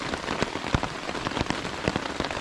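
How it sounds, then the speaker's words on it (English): Heavy rain keeps falling after an all-night storm on a trail campsite, drops drumming close and irregular on a nearby surface over a steady wet hiss, with no voices. "it's been storming pretty much all night and still raining"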